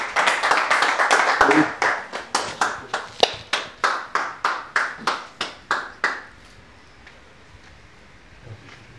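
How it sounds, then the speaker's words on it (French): Audience applause with rhythmic, unison clapping and cheers, loud and close for about six seconds before stopping abruptly into quiet room tone. "que je demande de recevoir par des acclamations"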